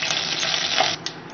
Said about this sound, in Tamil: எண்ணெய் சூடாயிருச்சு கடுகு உளுந்தம் பருப்பு இத ரெண்டு பொரியட்டும்